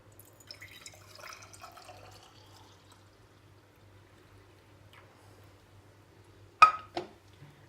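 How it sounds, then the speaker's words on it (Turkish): Milk is poured into a small glass jar for homemade yogurt, a soft faint trickle early on followed by a couple of brief louder liquid splashes near the end against a low background hum. "Küçük kavanozumuza da sütümüzü ilave edelim."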